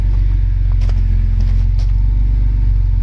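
A Vauxhall Senator CD 3.0 24V engine idles slightly fast with a continuous low rumble, close by, with a few faint clicks and rattles over the drone.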